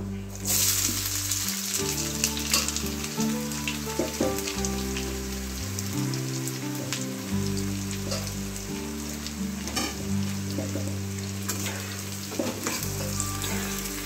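Thinly sliced onions frying in hot oil in a home Bengali kitchen, a continuous dense sizzle and crackle close by, with a low musical hum running underneath.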